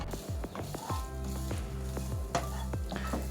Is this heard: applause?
no